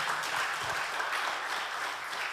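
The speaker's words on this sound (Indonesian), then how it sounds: "Beri tepuk tangan yang dahsyat" A church congregation claps during a worship service, giving dense continuous applause that is loud and even throughout the short stretch, with no voices over it.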